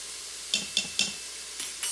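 Paprika stirred into chickpeas with Spanish chorizo cooking in an Instant Pot, a series of rhythmic scraping strokes over a low sizzle.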